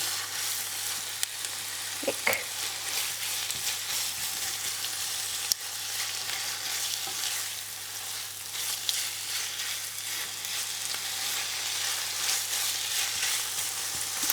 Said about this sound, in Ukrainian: відправляємо туди подрібнене філе стегна. Так. Підсмажуємо.